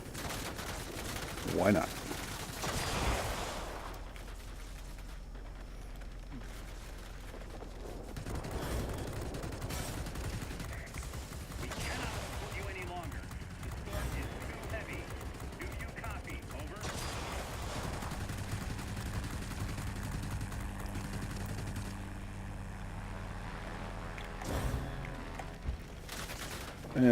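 Aircraft guns on an IL-40 jet firing in World of Warplanes, heard as bursts of rapid gunfire over a steady engine drone, with someone talking briefly near the start.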